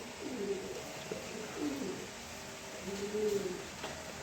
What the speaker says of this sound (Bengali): খুব সুন্দর একটা নর কবুতর